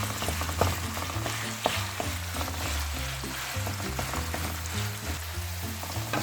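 Minced chicken keema fries in a pan with browned garlic and ginger as it is stirred and mixed. A soft, steady sizzle runs throughout, broken by light scraping and stirring clicks.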